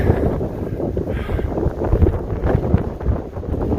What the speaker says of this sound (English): Wow, really windy.